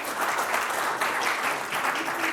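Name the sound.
audience applause for the speaker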